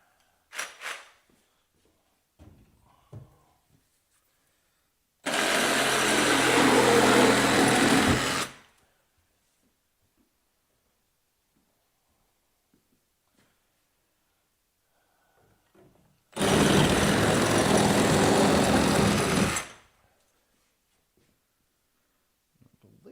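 A Sawzall reciprocating saw cuts in two loud, buzzing bursts of about three seconds each, separated by long quiet gaps, during renovation of a century-old Masonic lodge.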